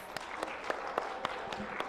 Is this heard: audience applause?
yes